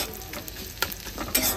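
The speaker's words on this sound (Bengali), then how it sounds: "পেঁয়াজটাকে এখন ভাজছে।" Onion and dried red chilli fry in hot oil, a close, steady sizzle with brief stirring scrapes and crackling bursts, no talk.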